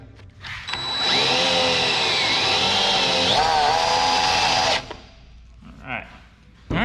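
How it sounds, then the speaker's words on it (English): A power drill bores a hole into a brand new airboat hull, a loud high whine that holds for about four seconds, wavers in pitch, then stops, followed by faint rustling. "So now we're gonna drill into a brand new airboat and feel good about it."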